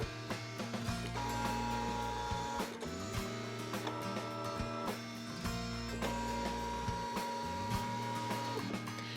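A cutting machine fitted with a pen tool draws a seam allowance, producing close, steady motor whirring in repeating passes broken by short clicks and pauses as the carriage moves and changes direction, with no voices.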